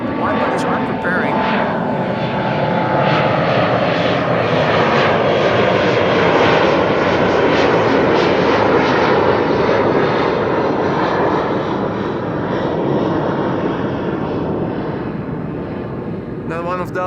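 An Embraer 175 jet takes off from Kaagbaan runway 24 at Schiphol, a loud, sustained engine roar that swells and slowly fades. A voice talks over it.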